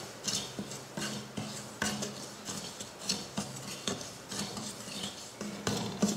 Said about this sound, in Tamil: ஒரு கடாய் வச்சு ரவையை நல்லா மணம் வர மாதிரி வறுத்து எடுத்துக்கலாம்